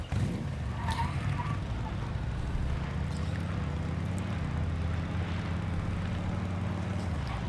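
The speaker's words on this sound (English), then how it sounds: "Let's see, will the motorbike make it across?" A motorbike engine drives across terrain in the Once Human game, a continuous rough low drone that holds steady and loud throughout, with faint scattered sounds over it.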